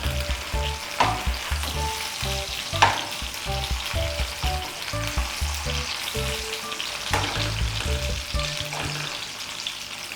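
Breakfast sausages fry on low heat in a pan, giving a continuous close crackle and sizzle with occasional louder pops and stirring bumps throughout, and no voices.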